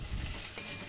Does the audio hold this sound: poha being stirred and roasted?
yes